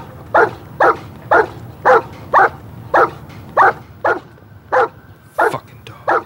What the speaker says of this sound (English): What's with the dog?